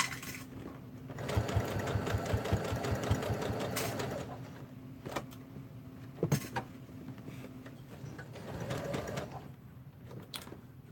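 A sewing machine stitches a fabric water bottle holder, sewing a quarter-inch seam around a circle: a steady rapid mechanical whir with a fast needle rhythm that runs continuously for several seconds, with short pauses and a few clicks.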